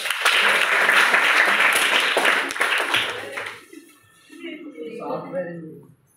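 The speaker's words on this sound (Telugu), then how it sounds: "చప్పట్లు కొట్టాలి" Students at a school personality-development session in Hyderabad applaud loudly together, a dense burst of clapping that fades after a few seconds into a teacher's voice speaking.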